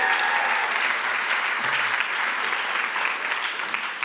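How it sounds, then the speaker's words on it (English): Graduation audience at an educational leadership ceremony applauding for a graduate, steady dense clapping that fills the whole stretch and tapers only slightly at the end. "let's give her a round of applause as she is here"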